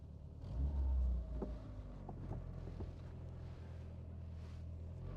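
A 1981 European-market VW Golf GTI with a close-ratio five-speed gearbox pulls away, its engine a low, muffled hum inside the cabin with some wind buffeting and faint rattles.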